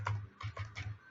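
Keys on a computer keyboard are pressed quickly while entering a git command, about four quiet close clicks in just over a second.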